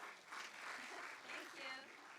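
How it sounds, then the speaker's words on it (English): A congregation at a morning gathering of the Center for Spiritual Living in St. Augustine gives a brief, soft round of applause while a speaker talks over it. "Give her a round of applause."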